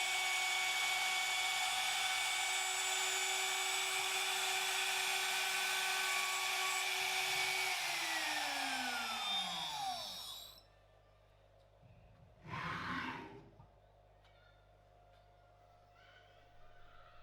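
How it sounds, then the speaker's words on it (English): CNC machine milling a fillet around a handle with a bullnose end mill, a loud steady high whine that winds down about two-thirds of the way through, then a brief burst of machine noise over a low hum. "The machine is ramping around the circumference of the handle and interpolating the fillet."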